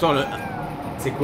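A cat meows in the video game L'affaire Morlov, with two short meows at either end of the moment, under a man's speech.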